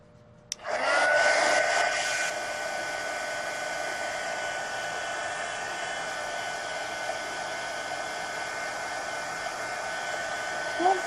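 A hair dryer switches on with a click and blows steadily over a watercolor page, a loud close whooshing roar that eases slightly after a couple of seconds and then holds constant.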